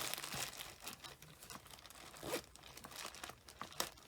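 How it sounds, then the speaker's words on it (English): A plastic bag crinkles and rustles steadily as a cross-stitch project is pulled out of it, with close, crisp crackles and small tearing-like bursts throughout. "I need to get this in its own project bag out of that plastic bag"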